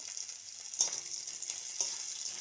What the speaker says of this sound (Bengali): নারকেলগুলোকে হালকা করে ভেজে নেব।